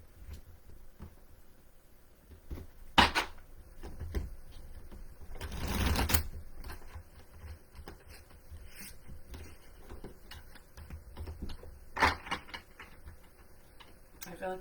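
Tarot cards are shuffled in short riffling bursts, quiet and close, with a longer papery shuffle in the middle and soft handling sounds between.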